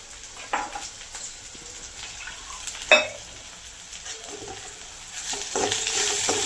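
Crushed green chili, garlic and cumin sauté in hot oil, a low frying hiss with scattered spoon scrapes and a sharp clink of utensil on pan, growing louder toward the end.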